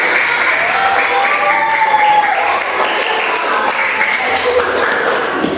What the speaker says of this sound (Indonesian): kita berikan tepuk tangan.